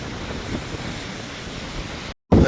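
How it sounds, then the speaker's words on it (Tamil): Rough sea and strong wind during a cyclone at Jaffna: a constant roaring wash of surf and gusting wind buffeting the microphone, with a brief cut to silence before the noise bursts back louder. "உங்களுக்கு நீங்கள் இதில் பார்த்தாலே தெரியும் கடல் அப்படி கொந்தளிச்சு கொண்டிருக்குன்னு"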